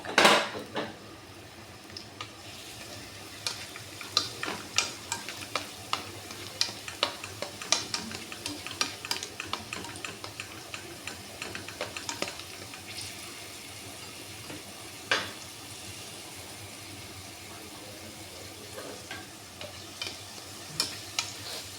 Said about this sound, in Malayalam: നമുക്ക് റൈസിൻസ് കൂടെ ഇട്ട് വറുത്തെടുക്കാം.